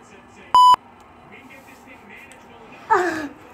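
Single sharp electronic beep from a phone during a ghost investigation, one short tone early, followed later by a brief breathy voice-like sound in a quiet room.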